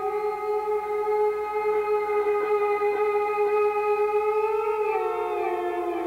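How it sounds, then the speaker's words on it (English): A homemade noise instrument built from recycled junk, a domino, a bottle cap and a busted surfboard, gives off a sustained electronic siren-like wail with stacked tones that wobble in pitch and bend downward near the end. "This is called electric surf."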